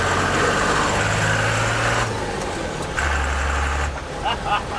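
A 1970s Ford F250 with a farm-tractor diesel engine swap rumbles loudly and revs hard in a second-gear launch, with a deep droning engine note that rises and then drops off. Voices speak briefly near the end.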